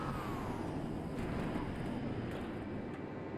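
A Warthog vehicle drives in the Halo Wars game, producing a dense, loud, continuous engine roar with rumble, steady from start to finish and no pauses.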